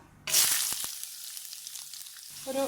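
Whole garam masala spices hit hot oil in a pan with a sudden loud sizzle that settles into steady crackling frying, a few stirring knocks, and a brief tone at the end.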